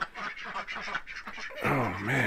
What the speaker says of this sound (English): the ducks are notifying the rest of the flock that there's somebody coming